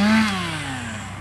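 A chainsaw cuts apple tree rootstock to length, its engine note falling steadily from a high whine to a lower drone across the short burst, loud and close with no voices.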